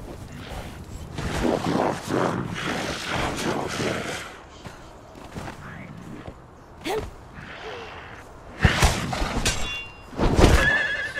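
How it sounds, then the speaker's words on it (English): A horse whinnies and snorts amid clip-clop steps, thuds and combat noise in the survival video game Conan Exiles, with a voice talking intermittently over the bursts. "Horse."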